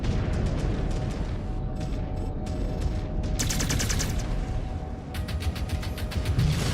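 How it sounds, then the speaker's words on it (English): Machine gun fire from a mech in the game MechWarrior 5 Clans, dense rapid bursts of rattling shots over rumbling battle noise and mechanical whirs, loud and continuous. "we're just gonna blink away at him with the machine gun"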